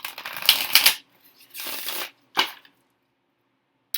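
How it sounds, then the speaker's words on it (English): Close-up riffle of a deck of oracle cards being shuffled in three short bursts, with quiet gaps between them and no talking. "I'm going to go ahead and shuffle"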